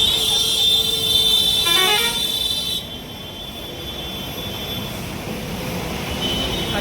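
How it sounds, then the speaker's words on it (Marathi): Heavy traffic rumbles through Chakan Chowk, a main junction near Pune, with a long sustained horn blaring over the first few seconds before cutting off, leaving a continuous wash of engine noise. "पाहू शकतात बघा किती ट्रॅफिक लागते"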